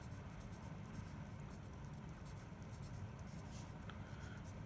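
A pen or marker scratches faintly across a board or paper while a chemical equation is written, soft intermittent strokes over a quiet background hiss.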